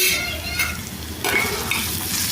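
Spices and turmeric sizzle and fry in a pan, stirred with a utensil that scrapes and clinks; steady close frying hiss with bursts of stirring throughout.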